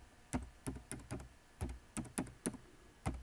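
Fingers typing a message on a computer keyboard, about a dozen soft, separate key taps in an uneven rhythm, close but quiet, with no talking.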